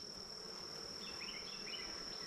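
Honeybees hum at an open hive brood box with drawn comb, a steady close buzz with a few individual bees darting past over it; no one speaks.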